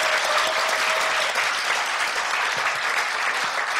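Steady audience applause from a seated crowd at a Korean gathering, many hands clapping together in a dense, even wash that holds for several seconds without pause.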